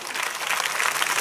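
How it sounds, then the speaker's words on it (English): Audience applause at a school Independence Day celebration, a dense steady wash of many hands clapping over a short moment. "Give a big round of applause."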